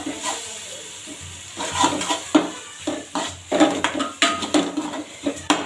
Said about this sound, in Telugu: ఇప్పుడైతే ఇదైతే బాగా కలుపుకుందాం.